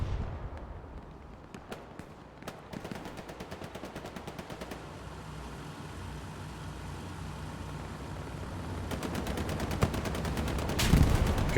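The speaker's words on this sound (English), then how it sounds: "Good arty hit from Garich." Artillery and gunfire in a tank video game: a rapid series of sharp cracks and booms, with dense clusters of shots at the start and near the end over a steady rumbling background.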